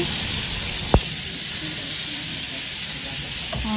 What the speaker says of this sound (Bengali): মাছ যখন তেলে দেওয়া হয় সুন্দর চমৎকার একটা সাউন্ড হয়